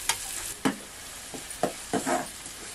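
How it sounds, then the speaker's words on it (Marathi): Onion and green chilli frying in oil for a Konkan-style sweet potato vegetable, a low sizzle broken by several distinct scraping stirs spaced through the clip. "कांदा मिरची मस्त परतून घेतल्या."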